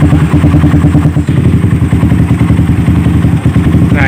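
A Suzuki Satria FU motorcycle with a 200cc bore-up, 68 mm block and stroke-up, runs at a steady idle close by, loud, with a fast, even mechanical chatter and no talking.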